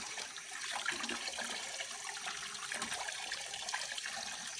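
Hot water runs steadily from a faucet fed by an EcoSmart Eco 8 electric tankless water heater, a continuous even splashing rush with no pauses.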